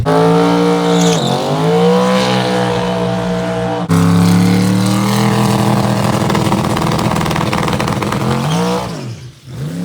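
A work truck's engine runs hard at a drag strip test-and-tune session, loud and close, with harmonic revving rising and falling steadily for several seconds before dropping off near the end.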